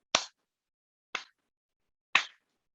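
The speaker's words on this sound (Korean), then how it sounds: "3 claps for yourself for being readers" Three sharp, evenly spaced claps about a second apart, loud and close, each standing alone against silence, from an audience applauding itself at a children's literature forum.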